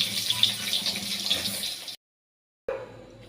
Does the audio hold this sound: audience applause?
no